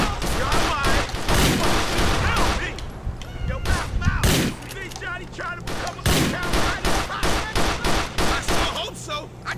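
Gunfire from a slow-firing weapon in the GTA 4 video game, Lost and Damned episode, a run of loud separate shots with a voice talking over them throughout.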